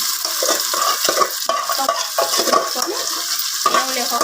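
Marinated chicken goes into frying masala for Andhra chicken dum biryani and is stirred, making loud, dense sizzling with repeated scraping strokes of a spoon against the pan throughout.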